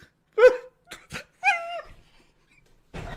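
A person imitates a dog with a few short barks and yips, separated by pauses, close and clear with no talking.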